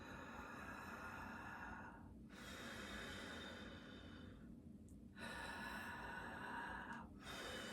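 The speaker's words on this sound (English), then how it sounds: "Now I'm breathing with my mouth open" Slow, steady open-mouthed breaths, loud and close, run as long inhales and exhales with brief pauses between them, and no talking.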